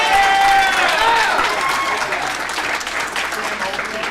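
A dinner audience breaks into loud, sustained applause, many hands clapping densely at once in a large room, the clapping gradually thinning toward the end.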